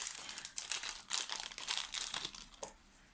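Plastic packaging crinkles and crackles in several close, uneven bursts as it is handled and pulled open.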